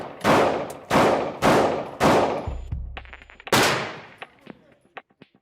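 Gunshots fired into the ground in a reenactment ring out as five loud, sharp blasts in an uneven sequence, each with a ringing decay, followed by fainter clinks and taps.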